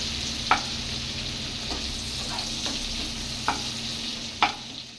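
Onions fry with a steady sizzle while a spoon clacks against the pan a few times, spaced stirring strokes heard up close.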